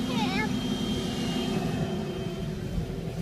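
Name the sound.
airplane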